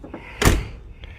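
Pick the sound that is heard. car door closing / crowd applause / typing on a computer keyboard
car door closing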